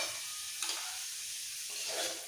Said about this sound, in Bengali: পনিরগুলো হালকা ভাজা হয়ে গেছে, তুলে নেব।